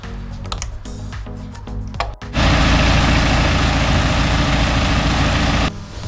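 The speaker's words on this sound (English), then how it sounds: "So what we'll do now is we'll start the car up" BMW N47/N57 diesel engine cranking, then catching and settling into a loud, steady close-up idle, after some clicks and clatter, with no talk.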